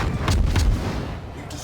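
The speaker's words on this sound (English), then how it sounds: "Take a little shots at the Wyoming to make it think that I'm shooting at him" The destroyer USS Clemson fires its guns in a naval video game, a couple of heavy booming shots close together followed by a rumbling decay, loud and near.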